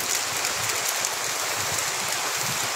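Rain pours down steadily in a dense, continuous hiss of drops striking surfaces, with no other sounds standing out.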